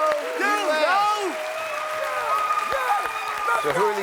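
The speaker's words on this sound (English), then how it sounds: "So who are these guys doing all the yelling and cheering for you today?" Fraternity brothers in the studio audience of the game show Are You Smarter Than a 5th Grader yell, whoop and cheer loudly. Their rising and falling shouts blend with clapping in a continuous, close crowd roar.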